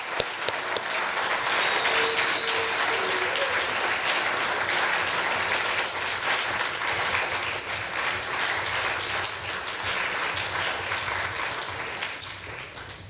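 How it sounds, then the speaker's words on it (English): An audience at a school fine arts awards assembly claps in sustained applause, dense and steady from start to finish, filling a large hall. "how about a round of applause for all those individuals?"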